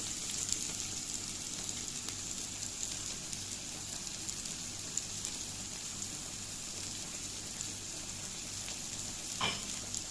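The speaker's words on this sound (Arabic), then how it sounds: "وهقلب كل ده مع بعضه تشويح بس كده" Garlic and onion stir-frying in a pan for a quick pasta dish, a soft continuous sizzle and crackle with faint stirring, steady and low throughout, with one brief scrape near the end.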